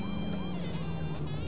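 A police car siren wails steadily in a driving video game, its rising and falling tone holding loud and close throughout over a constant engine drone.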